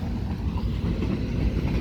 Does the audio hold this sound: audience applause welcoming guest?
no